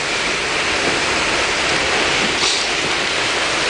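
Heavy rain pours down during a dark night thunderstorm outside a store, making a loud, dense, unbroken hiss that fills the whole clip with no voices.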